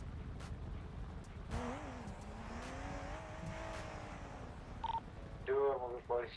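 Several police cars drive past in a busy game scene, their engines rising and sweeping by with a wavering siren-like whine, then sharp electronic beeps near the end; voices talk faintly underneath.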